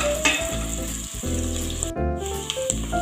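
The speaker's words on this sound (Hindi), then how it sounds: "फिर इसमें डालेंगे हरी मिर्च, अदरक एंड लहसुन," Finely chopped green chilli, ginger and garlic frying in a pan, loud close sizzling broken by brief stirring pauses, with no talk.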